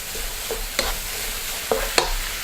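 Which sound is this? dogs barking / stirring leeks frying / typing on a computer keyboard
stirring leeks frying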